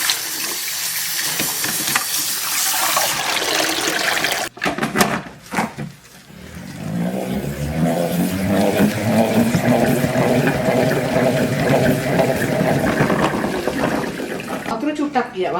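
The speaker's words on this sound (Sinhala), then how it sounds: "සෝදලා අරගමු තම්පල ටික." Thampala amaranth greens from a home garden being rinsed under a running tap, a steady rush of splashing water filling most of the clip, with a brief break midway and someone talking over it.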